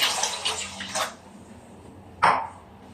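Water splashes and pours into a cooking pot with meat in two short bursts, the second sharper and louder, with quiet pauses between and no speech.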